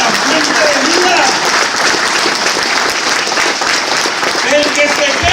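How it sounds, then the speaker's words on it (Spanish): Church congregation applauding during a Spanish-language Catholic sermon; loud, sustained dense clapping with voices audible underneath and some shouts mixed in. "Den un aplauso al Señor"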